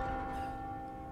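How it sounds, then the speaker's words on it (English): A bell tolls in Resident Evil 4 Remake, one sustained ringing tone with a rich hum of overtones, decaying slowly and heard alone. "And the bell's ringing"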